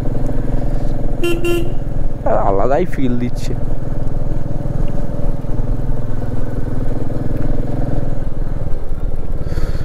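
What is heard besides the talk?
three motorbikes riding behind on mountain road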